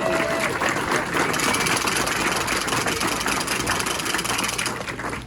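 Sustained applause from an audience at a speedway press conference after Belle Vue v Oxford, a dense steady roar of clapping filling the room at close range and fading slightly at the end.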